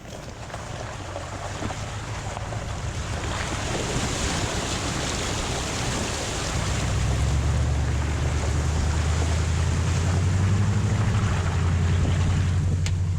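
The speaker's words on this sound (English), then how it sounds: "Here's our first of these little stream crossings." A vehicle idles and then rolls through a small stream crossing, its engine a steady low hum that grows heavier midway as water rushes and splashes continuously around it.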